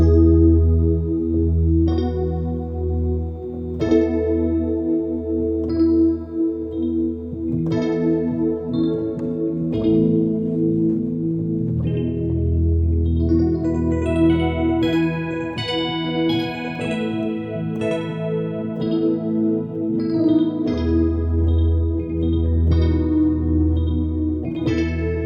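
Electric piano tones from two TF modules play a slow sequence of chorded notes with chorus and echo shimmer, sustained and full over about twenty-five seconds, no voices.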